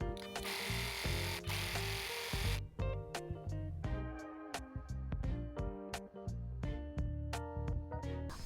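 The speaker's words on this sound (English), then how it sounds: "I can sew all the sides of the dress" Sewing machine stitching the side seams of a slip dress, a close rapid run of needle strikes first, then a string of separate sharp clicks and taps as the fabric is handled, without talk.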